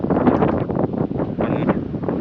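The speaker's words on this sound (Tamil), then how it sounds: "காற்று இருக்குது" Seaside wind at Kanyakumari buffets the microphone in a steady, rumbling rush with uneven gusts, loud and close, with no talking.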